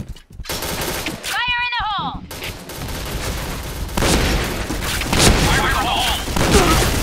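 Rapid bursts of gunfire from the first-person shooter video game Point Blank, building toward the end, mixed with game effects and a player's voice talking over them.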